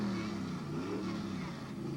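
A modified B truck engine accelerates at a firematic muster event, a loud, rough, continuous roar with rising harmonic pitch, close and sustained with no gaps.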